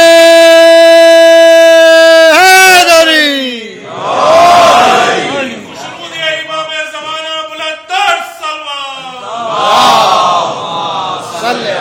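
A crowd at a religious majlis gathering raises loud chanted slogans in unison, voices swelling in a few surging waves after a single sustained call, close and full.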